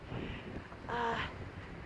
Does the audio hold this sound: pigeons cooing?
no